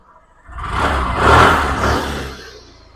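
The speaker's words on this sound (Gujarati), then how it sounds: "અને એન્જિનનો અવાજ પણ તમે સાંભળી શકો છો" A Suzuki Access 125 scooter engine idles and revs up close, a steady mid-pitched motor hum that swells and then settles back down; no talking.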